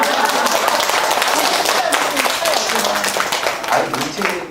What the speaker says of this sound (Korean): 그래서 박수 칠까요?